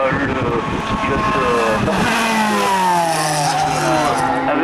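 A Talara F395 single-seater race car at a hill climb roars past with a loud, sustained engine note sliding down in pitch, while a commentator talks over it.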